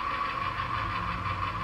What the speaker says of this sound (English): It every hour plays a different tractor starting up.